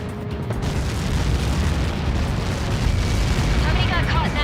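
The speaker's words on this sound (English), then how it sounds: "How many got caught in that explosion?" Explosion from a Helios projectile impact in the video game Ace Combat 7, a sustained roaring blast rumble that fills the clip at high level, broad and heavy from start to finish.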